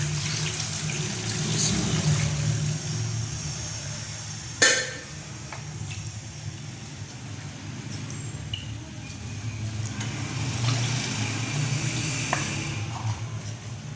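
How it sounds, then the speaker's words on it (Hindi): Water poured into a bowl of homemade butter for its second wash, a steady trickling stream close by with one sharp knock partway through. "दूसरा पानी डाल रही हूँ"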